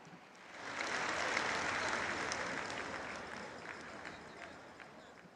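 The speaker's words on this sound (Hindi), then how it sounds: "एक बार जोरदार तालियां होनी चाहिए।" Crowd applause honouring women at a public event in Navsari, Gujarat, a broad wash of clapping that swells early, then slowly fades, fairly distant and soft.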